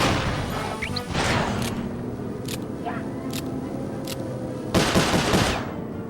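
Gunfire from Sly Cooper: Thieves in Time video game: a few sharp, spaced shots over a steady game background, with a louder burst near the end and speech around it.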